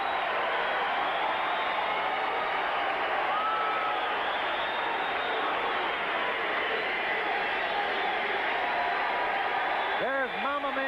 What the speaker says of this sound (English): The crowd acknowledging Ray Boom Boom Mancini.